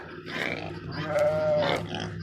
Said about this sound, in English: You can hear the pigs.